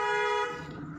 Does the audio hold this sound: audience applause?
no